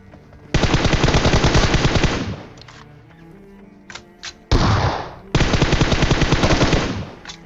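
M4 assault rifle fire in the mobile game PUBG Mobile, two long rapid automatic bursts of loud, close shots separated by a few scattered single shots and a short gap.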